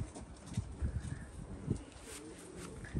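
Pigeons of the Janssen breed, a Janssen Huybens and Janssen Galgal cross, coo in low repeated bursts close by, with soft rustling and scattered movement noise in the loft around them.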